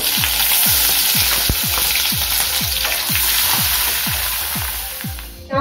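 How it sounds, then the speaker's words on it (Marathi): Curry leaves, cumin, asafoetida and a black masala paste fry loudly in hot oil in a pan for a Khandeshi sev bhaji, a steady close crackling sizzle with repeated scraping stirs and no talking. "आपलं तेल तापलं आहे, त्यात मी कढीपत्त्याची पानं घालून घेतली आहे।"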